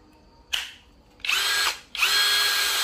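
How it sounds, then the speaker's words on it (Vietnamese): A cheap cordless drill with a brushless motor whirs up three times. The first is a short burst, then come two longer high-pitched spins, close and clear in a quiet room. "Nghe tiếng máy, các bác nghe tiếng máy giùm em này."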